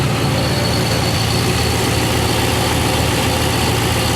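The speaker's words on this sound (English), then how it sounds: "You can hear the beast roaring" A 2003 GM 4.8 LS V8 with about 84,000 miles idles cold through what seems to be an aftermarket exhaust. It gives a loud, continuous, close rumble with a fast, even throb and no voices over it.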